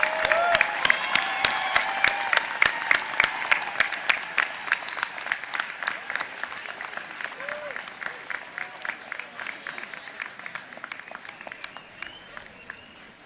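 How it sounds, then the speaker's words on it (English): A crowd at a business school graduation ceremony applauds the graduating class with sustained clapping and scattered cheers that slowly fade, while a voice speaks over the applause. "Let's have a round of applause for the entire class of 2019."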